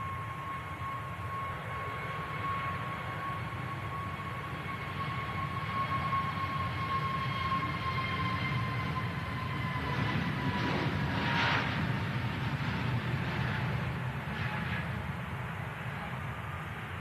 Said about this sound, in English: Gear up for the EasyJet.